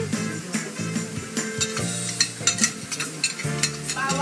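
Garlic sautéing in hot cooking oil, a steady sizzle with repeated stirring and scraping in the pan, close up and fairly loud, with no talking.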